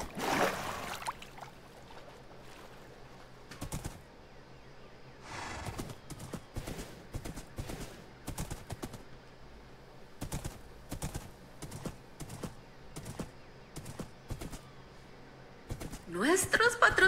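Rhythmic horse hooves clip-clop in a multiplayer survival video game, landing in regular repeated bursts at moderate loudness, with players talking over and between the steps.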